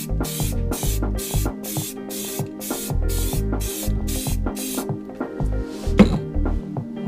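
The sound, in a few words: spray painting light coat on wheel centercaps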